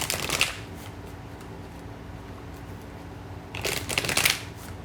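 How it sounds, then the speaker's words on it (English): Tarot cards being shuffled for a chakra reading, two quick riffling bursts heard close up at the start and near the end, separated by a quiet pause, with no talk over them. "So then I'm just going to pull the cards to clarify each of the chakras."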